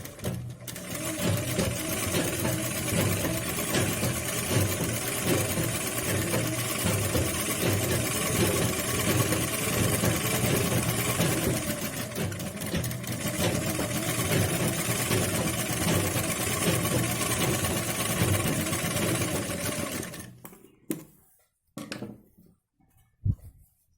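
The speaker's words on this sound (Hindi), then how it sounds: "अब हम इसके नीचे भी इस तरह सिलाई लगा लेंगे।" A sewing machine runs steadily, stitching lace onto a blouse with a continuous mechanical whirr for about twenty seconds, then stops, leaving a few faint clicks and handling noises.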